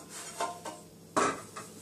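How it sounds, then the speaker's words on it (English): A few metallic clanks and knocks of cookware being handled, with two or three distinct bumps at close range in a quiet room. "Finally, the frying pan comes out"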